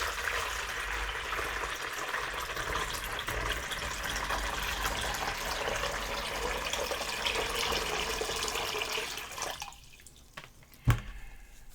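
Clean warm water pours steadily into a bowl for cleaning a fly line, a continuous close trickle and splash lasting about ten seconds before tapering off into a few drips.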